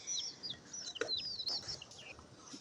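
High, thin peeping of chicks mixed with a few soft clucks from hens, quiet and close, scattered chirps overlapping throughout.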